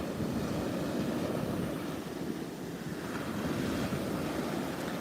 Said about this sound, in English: Yeah, watching waves,